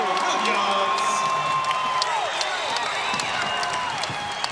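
Crowd at a women's college basketball game between Nevada and Louisiana Tech, a steady roar of cheering and whistles filling the arena while a commentator talks over it.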